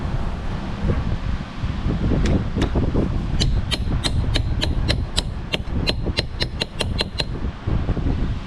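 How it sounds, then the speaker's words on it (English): A steady series of sharp metallic taps from a hammer on a 2007 Dodge Nitro's clock spring during airbag light repair, evenly spaced and close, over a constant noisy rumble of wind or machinery. "So I'm tapping with the hammer or something."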